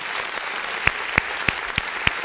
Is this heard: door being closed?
no